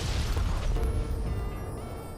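Rocket launched and blowing up in modded Minecraft, a brief loud deep boom with rumbling, crackling debris that fades away over a couple of seconds.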